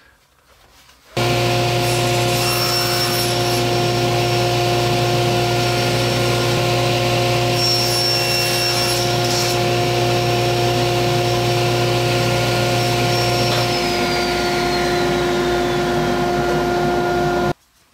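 A saw trims about 3/4 inch off wooden sign pieces, starting abruptly and running at a steady, loud hum with a tonal whine for about thirteen seconds before winding down and stopping, with no talk.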